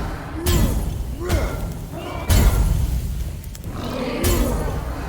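Explosions and combat impacts in the dungeon video game Curse of the Dead Gods, several sharp bursts followed by crashing, shattering thuds and rumbling tails, loud and close, with a low voice murmuring beneath.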